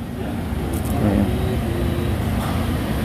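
A Toyota Kijang car at a used car dealer, its engine giving a loud steady rumble close by, with a brief rise in the middle and no speech.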